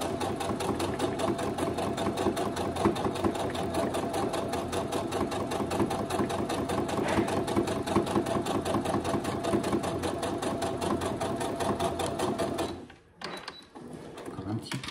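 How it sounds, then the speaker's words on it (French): A sewing machine runs continuously, stitching a seat belt shoulder pad with a fast, even mechanical chatter. The motor stops briefly near the end, then picks back up. "je continue ma couture"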